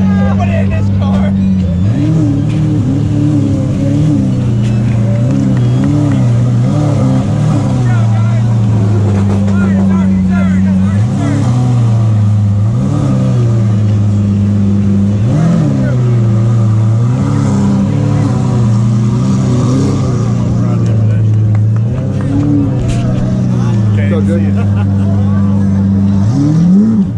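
Loud engines of a Miata and a Lamborghini rev and bark in repeated pulsing bursts during a two-step launch-control competition, a harsh stuttering launch-control note holding between swells, with talk underneath.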